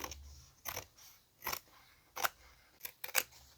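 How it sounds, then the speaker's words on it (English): Sharp scissors snip fabric close to the edge of a handmade journal cover, about six crisp, separate cuts spaced irregularly, near and fairly quiet with no talking. "So the next thing is to trim that off as close as possible to the edge"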